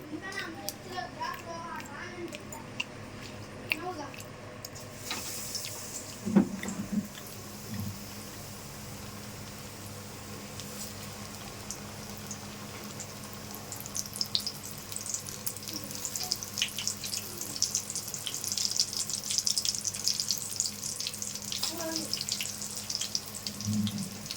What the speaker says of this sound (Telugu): ఇప్పుడు అరటికాయ బజ్జీ వేస్తున్నాను.